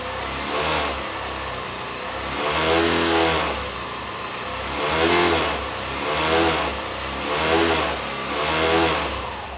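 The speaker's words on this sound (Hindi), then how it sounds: "अभी मैं जो इंजन है उसको स्टार्ट करूंगा" Motorcycle engine running with a front visor that vibrates, revving up and down in repeated swells, close and loud with a rumbling harmonic tone.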